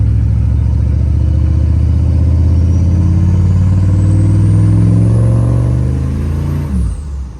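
A GSC 6.5L diesel pickup with an S300 turbo and 600 pounds of John Deere weights in the bed accelerates from a start, its engine roaring loud and close with a rising turbo whine before easing off near the end.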